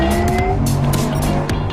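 Porsche sports car tires squeal under hard driving, loud and close, with engine roar and several sharp screeching bursts over under two seconds.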